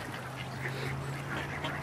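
Geese at a zoo give a brief, dense burst of honking and quacking, close and fairly loud over a noisy outdoor background, lasting under two seconds.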